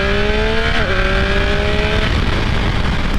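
A 2019 Triumph Speed Triple RS motorcycle ridden on the road: a loud, close engine drone holding a steady pitch with a brief dip as it shifts, under heavy wind rush, with no talking.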